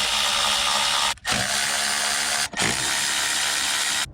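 A ratchet with an 8mm socket clicks steadily while loosening throttle body nuts on a 2006-2010 Ford Explorer, a close, continuous rapid pawl clatter broken by two brief pauses.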